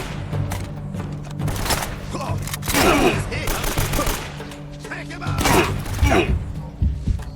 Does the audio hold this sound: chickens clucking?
no